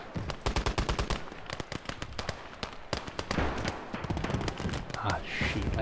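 A flak gun firing in the Surviving Conquest Enhanced strategy game, loud rapid repeated bursts of shots in a steady rhythm, joined by other battle noise and explosions.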